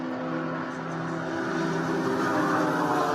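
A Mercedes race car engine drones steadily with a harmonic hum as the car enters pit lane at a GT race, moderately distant and gradually growing louder.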